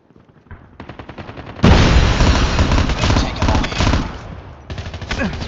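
Loud automatic machine gun fire in a first-person shooter, with bursts of rapid shots that swell into a sustained roar, then fall back into shorter bursts.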